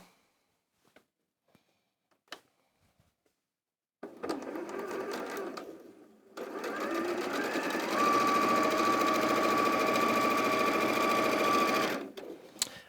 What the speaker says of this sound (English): I'm picking this up and sewing on that seam there